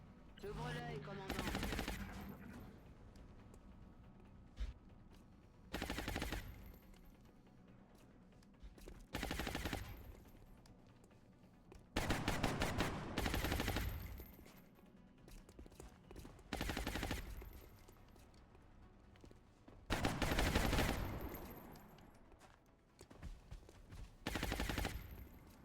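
Overwatch gunfire in the turn-based strategy game XCOM with the Long War mod: several loud bursts of rapid automatic fire and shots, each lasting a second or two, separated by quieter stretches over nearly half a minute.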